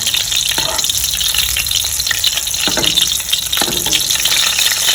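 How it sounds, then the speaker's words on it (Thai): Thai fish cakes (tod man pla krai) crackle and fizz steadily in hot oil, with a dense, continuous sizzle and a few louder bursts of spattering. No one speaks. "อันนี้เราก็ทอดทั้งสองด้านเหลือง จะใช้ได้แล้วนะคะ"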